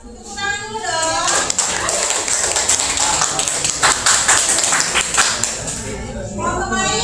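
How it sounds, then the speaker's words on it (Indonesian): A classroom of students claps together for several seconds, a dense burst of hand claps that swells quickly and then tapers off, with children's voices audible before and after the clapping. "Tepuk tangan dulu dong."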